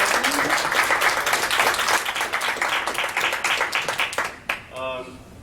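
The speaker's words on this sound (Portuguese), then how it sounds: "Give a hand to Anima Mundi for putting up great." An audience at a haircutting lesson in Belo Horizonte claps in steady applause for several seconds. The clapping tapers off at the end as a voice begins speaking.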